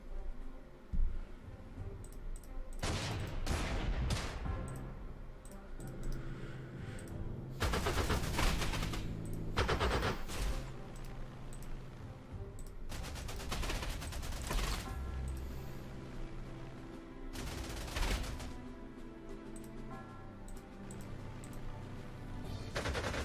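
Rapid, heavy gunfire from the war strategy game Panzer Corps 2, a series of loud, dense bursts of automatic fire and fusillades with short pauses between them, with no voices over it.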